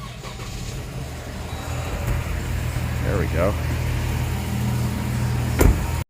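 A 2014 Dodge Durango 3.6L V6 4x4 with a suspected misfire cranks and catches midway, then settles into a steady, low idle. A person speaks briefly over the engine.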